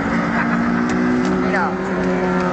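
BMW cars drive past on a road, a loud steady engine drone with a rising whoosh as one goes by, heard close under people talking.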